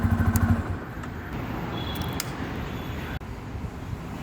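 Bajaj Pulsar N250 motorcycle engine and exhaust running steadily with a deep, grunty bass note, a few throttle pulses at the start and then a constant near idle.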